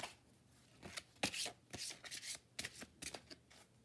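Oracle cards for a tarot reading are shuffled by hand in a quiet room, making repeated soft riffling and sliding swishes in an uneven rhythm, close by.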